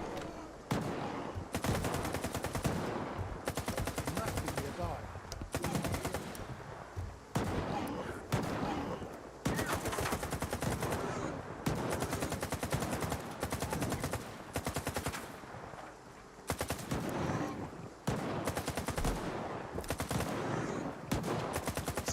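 Near-constant gunfire fills a firefight in the video game S.T.A.L.K.E.R. 2, with dense, loud bursts of automatic shots rattling almost without pause, broken only by a few brief gaps.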